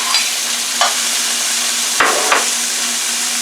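Cut-up red peppers frying with ground beef give a steady close hiss of sizzling oil, broken by a few sharp knocks of a utensil against the pan, with no talking.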